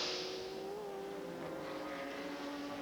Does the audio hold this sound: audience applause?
no